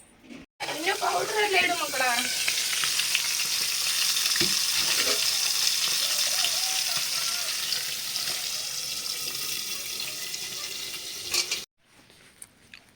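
Fish frying in a pan gives a steady, moderately loud hiss that runs for about eleven seconds, with a voice and a few clatters near the start before it cuts off.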